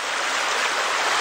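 Bear Creek rushes past close by, a steady, bright wash of flowing water with no pauses or other sounds.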